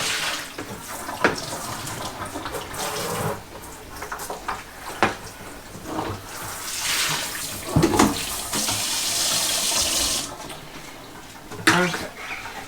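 Tap water runs into a home brew container being rinsed, splashing and gurgling in uneven bursts at moderate distance, with brief louder sloshes.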